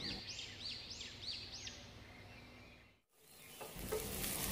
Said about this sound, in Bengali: আদা এবং রসুনটাকে আমি একটুখানি ভেজে নিয়ে আধা কাপ পরিমাণ পেঁয়াজ কুচি দিয়ে দিব।